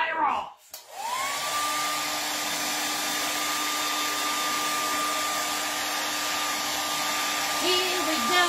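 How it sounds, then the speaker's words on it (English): A hair dryer drying paint switches on after a brief rustle and runs with a steady, loud whirring hum close by for several seconds. "we're going to take our little handy-dandy hairdryer."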